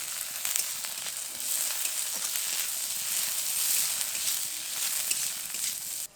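Soaked peas frying in oil with onions and chopped green chilli in a pan for a Bengali chop filling, giving a steady close sizzle with soft scraping as they are stirred, no talking.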